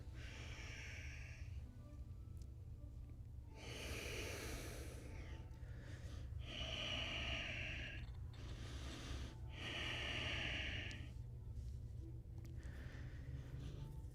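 Slow breathing during a forward fold in a live yoga studio class. Several long, soft, airy inhales and exhales rise and fall over a steady low hum.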